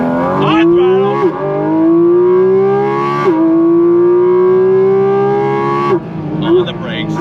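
A Porsche 718 Cayman GT4 RS mid-engine sports car screaming under hard acceleration, its engine note rising steeply through several gears with brief dips at each shift, loud and close throughout.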